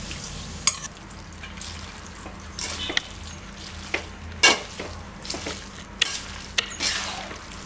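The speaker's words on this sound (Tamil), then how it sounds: "இந்த நெய்யோடையே நம்ம முந்திரி பருப்பு திராட்சையை அதில் கொட்டிக்கலாம்." Cashews and raisins frying in ghee for Diwali boondi laddu, a steady close sizzle punctuated by sharp clinks and scrapes of a spoon stirring against the pan, with no talk.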